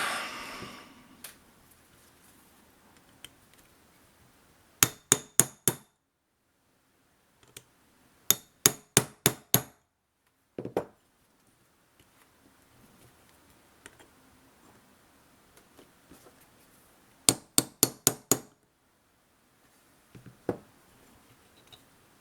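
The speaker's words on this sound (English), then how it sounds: "I'm going to have to give it a bit of a beat down with a brass punch" Clusters of four or five sharp metallic taps from a hammer driving a brass punch against the wedge of a Pietta 1851 Yank snubnose .44 revolver, separated by quiet pauses.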